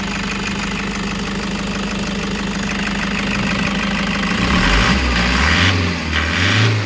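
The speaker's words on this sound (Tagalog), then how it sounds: "goods na goods yung andar ng makina natin" A Toyota HiAce GL van engine idles steadily with a constant low rumble and slight knocking texture, close and loud, its pitch shifting near the end.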